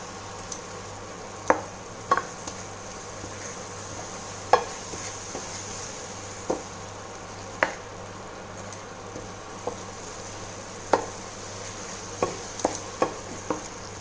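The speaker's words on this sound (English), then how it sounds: "With this, I'm now going to add 1 spoon of chili powder, and saute the mixture together." Chili powder sautés with ghee, onion and curry leaves for a Mangalore-style prawn ghee roast, with a gentle sizzle under a dozen or so crisp, irregular spoon taps and scrapes against the pan.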